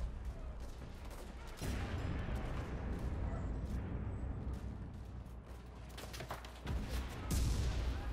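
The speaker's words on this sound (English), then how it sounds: "I could hear MG fire down there." Machine gun fire crackles in the World War II shooter game Enlisted, a dense continuous barrage with a low rumbling bed and sharper bursts near the end, sounding somewhat distant.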